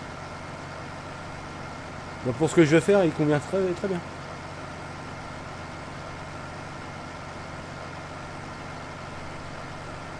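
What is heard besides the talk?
very old tractor engine idling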